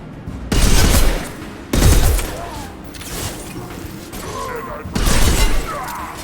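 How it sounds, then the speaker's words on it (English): High-impact gunfire in the Mass Effect 2 Legendary Edition video game, with three heavy, booming blasts, each followed by a ringing, crackling tail, separated by quieter gaps. "Firing a high-impact shot."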